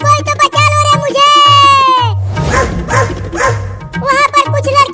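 A cartoon dog barks in a Hindi comedy animation, a quick run of sharp, loud yips and woofs, then a pause before more barking, with a child-like voice talking between the barks.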